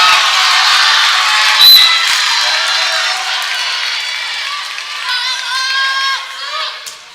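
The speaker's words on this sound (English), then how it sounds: "big crowd's now gone wild" A big crowd at a high school volleyball quarterfinal between McBain and Calumet roars and cheers loudly after a serve, with shrill whoops and yells that slowly fade, under an announcer's commentary.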